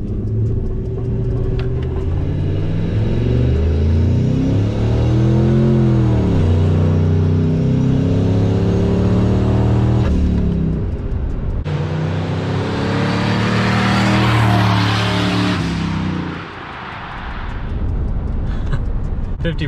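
A turbocharged Ford F150 pickup with an open exhaust cutout accelerates hard, its rumbling exhaust rising and falling in pitch through repeated pulls and a loud roaring surge before easing off.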